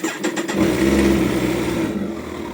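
A 2011 Kawasaki ZZR 1400 motorcycle engine cranks and catches, then settles into a loud, close, steady running rumble.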